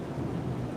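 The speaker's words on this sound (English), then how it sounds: "rain that's the problem with noise" Rain drumming on a Hyundai Ioniq 5 while driving in 13-degree weather, a continuous low rumbling wash heard from inside the cabin, steady and moderately loud with no speech.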